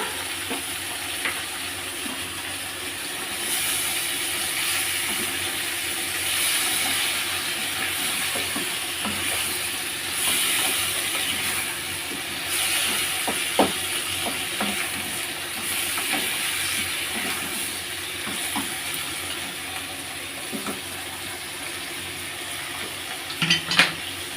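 Pointed gourd and shrimp cook in a pot with its lid opened, a continuous loud hiss of steam and sizzling that holds for over twenty seconds, dotted with faint clinks of metal and a few sharper knocks near the end.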